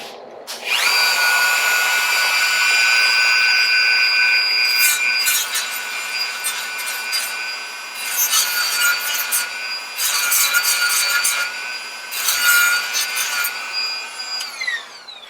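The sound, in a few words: Dremel tool grinding metal engine crankcase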